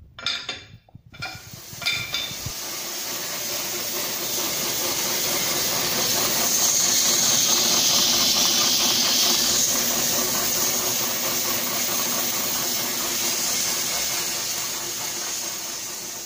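A huge one-metre saw blade cuts into rock at the Juchem stone quarry in Germany, rising from clatter into a loud, sustained grinding whine with a hissing edge that holds steady for many seconds.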